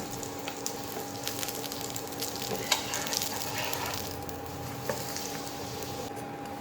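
A potato paratha frying in a little oil on a pan, giving a soft, steady sizzle with a few faint taps and pops, quiet and continuous.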